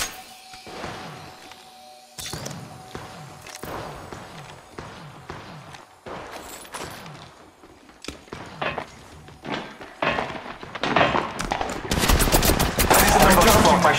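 Rapid gunfire bursts from an Apex Legends Mobile match, repeated volleys and single shots building to a dense, loud barrage near the end, with game sound effects throughout.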